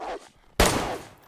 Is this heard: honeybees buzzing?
no